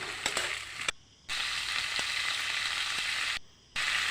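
Cowpea seeds sizzle and crackle in hot oil in a pan while being stirred, a steady close frying hiss with a few sharp ticks, briefly cutting out twice, no speech.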